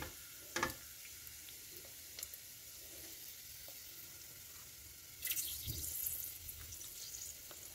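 Whole spices—cinnamon stick, bay leaves, cardamom, cloves and star anise—frying in hot oil for coconut milk rice, a faint steady sizzle with a few sharp clinks early on and a louder burst of crackling toward the end.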